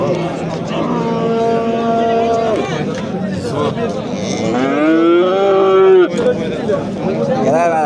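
A young calf moos at a busy Kosonsoy cattle bazaar, with several drawn-out bellowing calls rising over steady crowd chatter and talking nearby.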